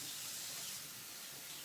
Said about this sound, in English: So I'm gonna wash my hands right quick.